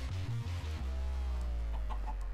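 Chicken clucking in an island-building video game, short tonal clucks over a steady low background hum, with no talking.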